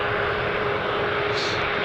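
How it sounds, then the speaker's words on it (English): A Virgin Australia Boeing 737 jet sits at Melbourne Airport ahead of departure to Sydney. Its engines give a loud, steady roar that holds constant throughout, with a slight rise in pitch toward the end. "we've got the Virgin 737 here. This is going to depart to Sydney as Virgin Flight 819"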